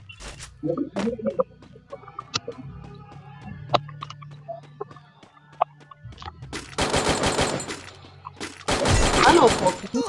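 Rapid bursts of automatic gunfire in the battle-royale video game Free Fire, two dense loud volleys near the end after scattered clicks and lighter game sounds.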